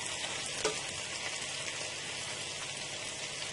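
Chicken browning in a pan for nihari, a steady crackling sizzle like light rain throughout, close and even, with one small clink early on and no speech.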